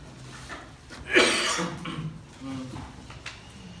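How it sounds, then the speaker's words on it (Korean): A single harsh cough bursts out from a man leading a Korean church Bible study, followed by a quieter rasping breath and low murmuring. "제가 좀 기침이 심하니까"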